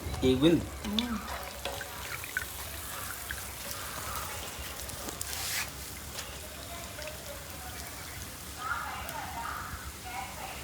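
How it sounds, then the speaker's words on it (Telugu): Arisela, rice flour sweets, fry in oil over a low to medium flame, making a dense, rain-like crackling bubble that carries on steadily, with a voice faintly present at times. "లో టు మీడియం ఫ్లేమ్లో పెట్టి మనం వేయించుకుందామండి"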